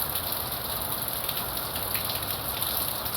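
Steady rain pours down in a dry rural region, a dense, even hiss of drops on surfaces that holds constant throughout with no voices.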